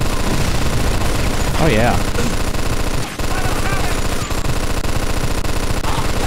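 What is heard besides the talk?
machine gun firing in the video game Mafia 2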